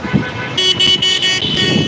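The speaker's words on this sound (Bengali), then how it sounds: "ঢাকা শহরে এই যে হর্ন বাজানো হয় এর আগেও আমি এনে কথা বলেছি এই হর্নের সেভেন্টি পার্সেন্ট হর্নই আসলে অযথা অকারণে বাজানো হয়" Car horns blare in congested Dhaka street traffic during Ramadan. A loud, sustained honk starts partway through and breaks into several short toots over the rumble of idling vehicles.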